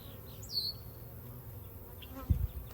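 Honeybees hum faintly inside a hive, a low, steady drone with a brief higher buzz of a passing bee. A small burst of louder buzzing comes near the end, with no speech.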